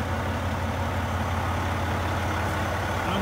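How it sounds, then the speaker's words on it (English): A Volvo VNR semi truck with an I-Shift automatic transmission idling while warming up, a steady, quiet low diesel rumble held evenly throughout, close with no talk over it. "I'm idled up here, just warming up. You can tell it runs really quiet, which we like."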